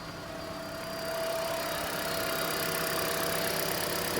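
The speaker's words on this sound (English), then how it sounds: "So I'm gonna start up the engine." A 2012 Toyota Prius engine idles steadily after starting up during a coolant leak repair, a constant mid-range hum with a faint whine that grows slightly louder after the first second and then holds even.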